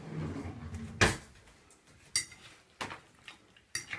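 A utensil clinks and scrapes against a dish while haystacks food is mixed, a few separate sharp knocks spaced about a second apart, close and fairly clear, with no voices.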